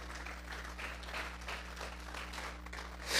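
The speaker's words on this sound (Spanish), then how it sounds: "Vamos a regalarle ofrenda de palmas al Dios de la gloria." Sustained applause from a congregation during a church service, offered as praise to God; steady, dense clapping throughout that swells slightly louder at the very end.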